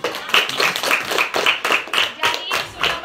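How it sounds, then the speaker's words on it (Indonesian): A classroom group claps hands after a mock BPUPK session, a quick run of roughly ten sharp claps at a steady beat, close and fairly loud, with voices mixed in. "Oke, tepuk tangan."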